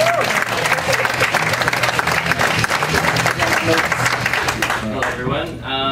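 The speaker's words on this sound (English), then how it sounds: "Please, make a whole bunch of noise for Travis Mendgen" A comedy club audience applauds and cheers as a stand-up comedian is introduced, dense steady clapping with whoops and crowd voices throughout, loud and close, tapering slightly at the end.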